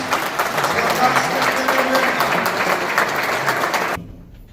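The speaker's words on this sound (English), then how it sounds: "Let's give another round of applause." Applause from an audience at a Kosovo Independence Day celebration in New York City: a dense, steady wash of clapping and crowd noise that continues for several seconds before stopping abruptly.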